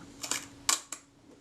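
A Kodak Retina I type 010 camera shutter fires on the repair bench, with a few crisp mechanical clicks and snaps, close and sharp, the loudest in the middle, against a quiet background.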